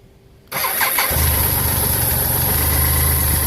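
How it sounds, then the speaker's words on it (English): A BMW K75 motorcycle engine cranks briefly after a quiet start, catches and settles into a loud, steady close-up idle with an even mid-pitched hum. "we're going to start the engine and check if the oil"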